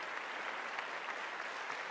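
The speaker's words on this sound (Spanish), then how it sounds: "¿No le dan un aplauso a Dios por eso?" A church congregation applauds for God during a sermon, a thick, even roar of many hands clapping that holds steady throughout with no break.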